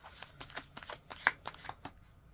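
Tarot cards are shuffled by hand, a quiet series of quick papery riffles and flicks in an irregular rhythm, close up and alone.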